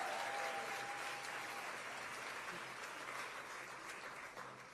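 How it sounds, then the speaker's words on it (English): Applause from a large crowd at a political address by Kamala Harris, a faint, distant, even wash of clapping that slowly fades. "Let's give them all a big round of applause."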